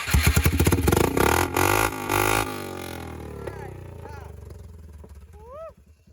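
Straight-piped exhaust of a 2001 Polaris Sportsman 400 2x4 ATV revs hard and loud at first, then drops to a lower idle rumble, with people talking nearby.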